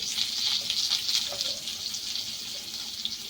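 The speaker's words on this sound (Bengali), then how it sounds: "আলুটাকে লাল লাল করে ভেজে নিতে হবে।" Salted potato pieces fry in a hot pan with a steady, bright, hissing sizzle that stays close and fairly loud throughout, with faint stirring underneath.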